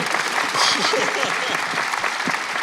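A crowd at a Los Angeles red carpet film premiere claps enthusiastically, with voices calling out over the steady applause.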